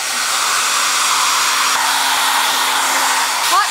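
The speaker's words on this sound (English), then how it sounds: "grab your hair dryer" A hair dryer blows steadily and loudly at close range, a continuous airy whoosh with a faint motor hum and no voices over it.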